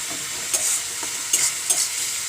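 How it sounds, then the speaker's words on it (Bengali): Onions sauté in a pan for a mildly spiced chicken curry, giving a steady hiss of frying broken by a few scraping stir strokes, close and fairly loud with no talk. "এটাকে আমরা আর একটু কষিয়ে নেব, পেঁয়াজটা যাতে একটু গলে গলে আসে।"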